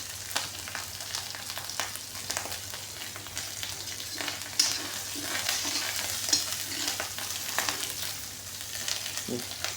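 Food frying and sizzling in hot oil with stirring, as organ meats and rice are cooked and oil spatters; a steady, close crackling sizzle runs throughout with scraping stir noises and brief louder pops.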